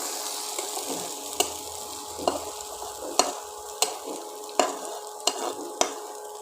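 Vegetarian ghugni, a dried pea curry, fries in a pan with a soft continuous sizzle as a spatula scrapes and taps against the pan at regular intervals, close and clear with no talk.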